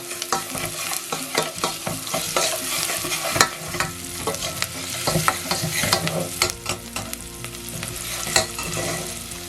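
Chickpea curry ingredients sizzle in a hot pan while being stirred, with scraping strokes and a busy, uneven crackle close by.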